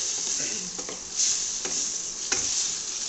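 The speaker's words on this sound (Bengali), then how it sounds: "এই যে আমি এখানে জল অ্যাড করে নিয়েছি" Water poured into sizzling frying spices for papad dalna produces a bright, dense hiss and sizzle with light stirring clicks and a couple of sharper spatters, close and continuous.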